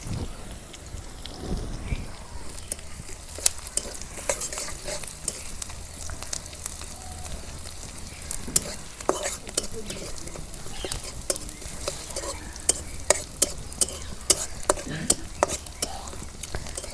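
Onions frying in oil in a village kitchen for a sour-spicy tilapia fish curry, a steady broadband sizzle with frequent sharp clicks of stirring against the pan, moderately loud and close throughout.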